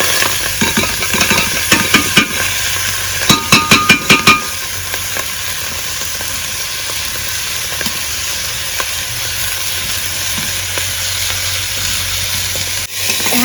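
Rice stirred in a pot while making beef biryani, a steady frying sizzle with a burst of sharp scraping clicks near the start, then continuous hiss with light stirring scrapes throughout.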